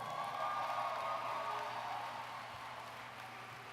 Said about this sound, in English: let's give yourselves a round of applause right now